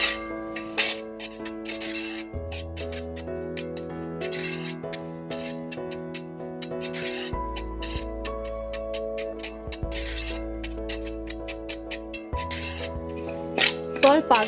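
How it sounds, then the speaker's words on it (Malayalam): Roasting avalose podi, a rice-flour powder, with cumin, scraped and stirred along the pan bottom in a steady rasping rhythm, with a sustained hum underneath and occasional sharper scrapes. "ഇളക്കി കൊടുക്കുമ്പോൾ അടി കൂട്ടി ഇളക്കി കൊടുക്കുക."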